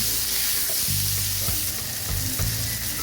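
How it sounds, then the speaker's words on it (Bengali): Food sizzles loudly in hot oil, a constant crackling hiss with occasional scraping and stirring knocks close by. "এগুলো একসঙ্গে ভেজে নেব।"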